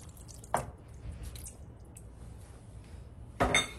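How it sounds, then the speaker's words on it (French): A little water poured into a cooking pot for liboke, giving two short splashing bursts with quiet dripping between them, close by with no talk. "Je vais ajouter encore un peu d'eau, juste un peu, pas"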